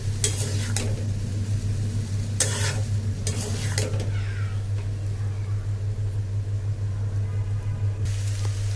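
Chicken noodles stirred and tossed in a hot pan, soft scraping and sizzling over a steady low hum, with a few sharper utensil clinks early on.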